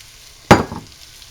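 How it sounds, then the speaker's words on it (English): A single short hit of sizzle as chicken for Sicilian-style cacciatore sautés in a pan, a sharp spike of frying that fades quickly into quiet. "And so now I'm sauteing this"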